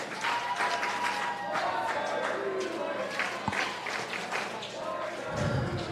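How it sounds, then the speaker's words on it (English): Boys on a swim team cheer and shout for their relay team at an indoor swim meet, a continuous crowd roar mixed with voices and a few thuds. "You can hear the boys cheering for each other here, cheering on their relay team"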